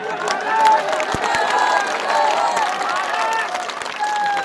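Audience at a public meeting in Chiloth, Shivpuri, making a steady wash of crowd noise and clapping that holds at a constant loud level throughout, with voices mixed in.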